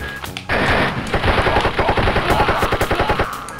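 Rapid automatic gunfire in the first-person shooter Wolfenstein, a loud close burst of evenly spaced shots following a brief lead-in, no talking.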